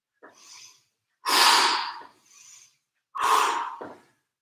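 Heavy breathing during a toning exercise: two soft short breaths alternating with two loud forceful exhales, close up with clear pauses between, no talk.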